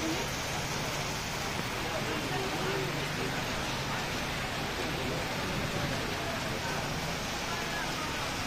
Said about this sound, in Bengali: দেখতেই পাচ্ছেন বৃষ্টি হচ্ছে শেরপুর জেলাতে